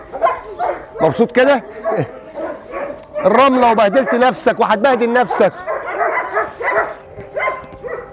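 An eight-month-old farm dog barks and whimpers in loud, close bursts with yips and whines, while someone talks to it between and over the sounds.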